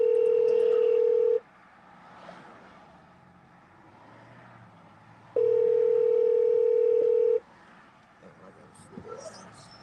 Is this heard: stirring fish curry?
no